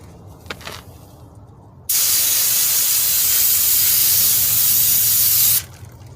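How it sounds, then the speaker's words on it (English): A long, loud spray of aerosol brake cleaner onto new rotors and calipers of a 2009 Chevy Cobalt hisses continuously for several seconds, then cuts off abruptly, with a few faint clicks before it. "Spray off all the fingerprints."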